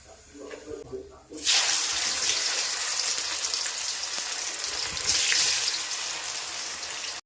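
Hot oil sizzles loudly and steadily in a pan during home cooking, a dense close hiss that starts abruptly and continues without pause.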